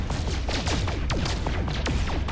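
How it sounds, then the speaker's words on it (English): Repeated laser-like shots from photon cannons in No Man's Sky during space mining, a rapid series of descending zaps over a dense, continuous roar of game noise. "Photon cannons only when mining."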